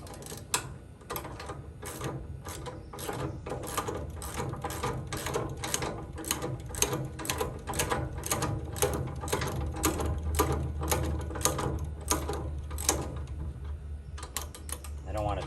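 A ratchet tightens the wheels on a rusty Atlas industrial tool cart, giving a long run of rapid, evenly spaced clicks, close and steady, with a low hum underneath and a brief pause near the end.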